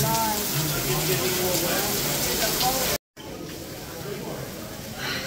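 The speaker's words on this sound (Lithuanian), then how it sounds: "Griaudė belenkaip. Lyja belenkaip." Heavy downpour during a thunderstorm near a European castle, a dense close hiss under a person talking, cut by a momentary dropout before the rain resumes slightly softer.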